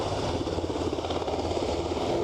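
An airliner takes off at Aberdeen airport, its engines producing a loud, steady roar with a broad rumbling texture that stays constant and close throughout the brief moment.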